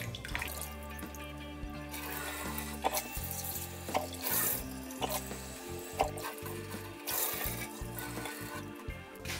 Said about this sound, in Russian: Теперь можно положить рис. Но сначала нужно помыть. Моем 3 раза, меняя воду,